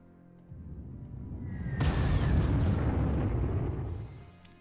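A loud explosion erupts as an anti-aircraft cannon is hit in the strategy game Panzer Corps: a sudden blast after a low rumble, sustained roar for a couple of seconds, then fading debris noise.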